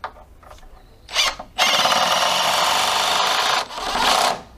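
A Makita hydraulic impact driver drives a 5x70 screw, with a couple of short trigger blips followed by a loud, steady whirring run of about two seconds and a final brief burst.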